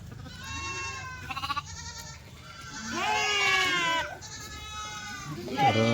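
Kathewadi sheep bleat close by in several quavering calls, mixed with people talking over the bleats.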